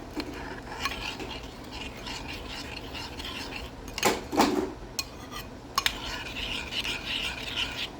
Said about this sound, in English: once your mixture is in the bowl, just slowly combine or whisk it into